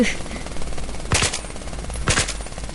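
Gunfire in the video game Battlefield 3, two sharp bursts of automatic fire about a second apart over a low game background, fairly quiet.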